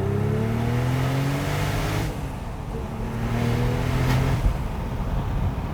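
A tuned Porsche 911 Turbo with a 6-speed gearbox revs up close and loud, its engine note rising, dipping briefly, then climbing again through a steady, continuous pull with no talking.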